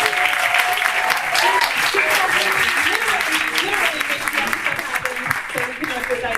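An audience applauds the cast, crew and volunteers standing up at a Q&A, steady close clapping filling the room throughout with some scattered voices mixed in.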